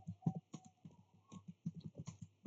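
Rapid, irregular keystrokes on a computer keyboard as networking commands are entered, close and fairly crisp, with short pauses between bursts and no voices.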